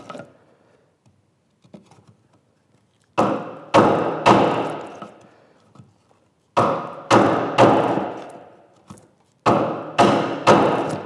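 Mallet strikes on a chisel chopping a mortise at a workbench: sharp, loud wooden thuds in three clusters of three to four blows each, separated by quieter pauses with faint tapping and shuffling.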